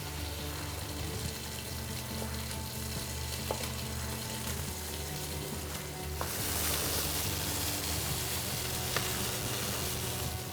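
Diced chorizo frying in a pan alongside skate wing, a constant close sizzle with small clinks and stirring, growing louder and brighter partway through, with no one speaking.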